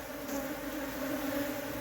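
Honey bees drone steadily at a hive in an old tree stump, a dense, continuous close buzz of many insects with no talk.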